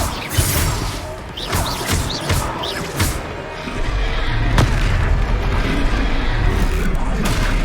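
Confringo fire spell blasts in Hogwarts Legacy land as loud crashing booms, several sharp impacts early, then a sustained roaring rumble of combat noise close up.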